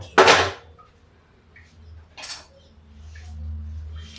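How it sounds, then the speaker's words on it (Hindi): A kadhai wok set down on a gas stove in a home kitchen, giving a sharp metallic clatter at the start followed by a few fainter knocks and clinks in a quiet room. "अब देखिए ये चढ़ा दिया मैंने कढ़ाई, जला लेते हैं गैस को।"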